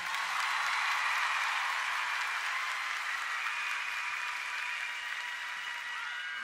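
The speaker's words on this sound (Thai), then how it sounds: "ขอเสียงปรบมือให้ผมสักครั้งได้ไหมครับ" A concert audience at a 2012 show applauds steadily, a dense, even wash of many hands clapping that holds at a constant level throughout, with no voices standing out.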